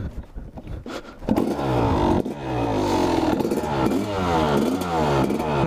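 A Honda CR250 motorcycle engine warms up after the choke is switched off, first sputtering and clattering, then settling into a loud, steady two-stroke idle with rising and falling revs, close by and without talk.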